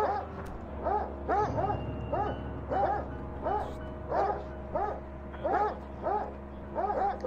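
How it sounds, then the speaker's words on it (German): Several dogs bark together in a rhythmic chorus in the video game Darkest of Days, sharp repeated yelps spaced about every half second and fairly close, over a low steady background hum. "Schön, wie die Hunde im Chor bellen können."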